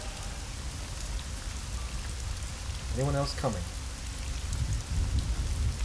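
Steady rain hisses down without a break in Hitman: Blood Money, loud and close, while someone speaks a short line partway through.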